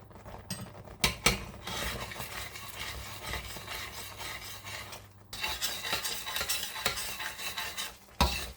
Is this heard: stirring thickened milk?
yes